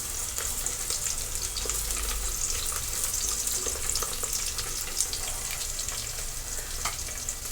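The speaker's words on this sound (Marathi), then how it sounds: "आणि लवंग मिरे आणि दोन वेलची आहेत हे देखील आपण टाकून घेणार आहोत तर हे खाडे मसाले व्यवस्थित परतून घेणार आहोत" Cloves, black pepper and cardamom pods sizzle steadily in hot oil, a continuous close frying hiss with faint scattered pops and crackles throughout, no voices.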